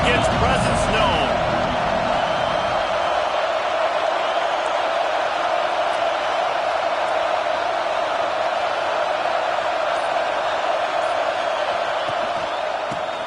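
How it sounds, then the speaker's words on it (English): A Clemson college football stadium crowd gives off a steady, loud roar that holds evenly for the whole stretch without pausing. "This crowd ready to make its presence known."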